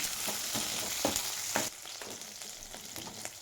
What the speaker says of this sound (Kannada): ಈಗ ಒಂದು ನಾಲ್ಕು ಒಣಮೆಣಸಿನಕಾಯಿನ ಈ ಕಟ್ ಮಾಡಿ ಹಾಕ್ಕೊಂಡು ಫ್ರೈ ಮಾಡ್ತಾಯಿದ್ದೀನಿ